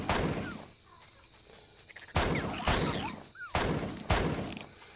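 Pistol shots ring out in Empyrion Galactic Survival, about five sharp, loud reports spaced unevenly, each with a short decay, over a thin background hum.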